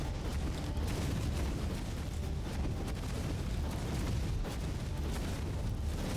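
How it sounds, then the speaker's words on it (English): Fire-breathing area attacks set off constant explosions in the video game Death Must Die, making a dense, unbroken rumbling barrage of blasts at a steady, fairly subdued level with no talking. "Everything's just exploding though."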